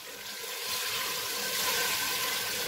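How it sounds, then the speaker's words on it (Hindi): Water poured into chicken curry in a pressure cooker, about four tablespoons added after frying the chicken, giving a steady close splashing, sizzling rush that holds evenly throughout with no talking. "इसमें 4 टेबलस्पून पानी डालेंगे"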